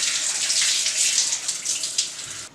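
Running tap water splashes as a face is rinsed after face wash, a steady close gushing with uneven splashes as hands scoop and move through the stream.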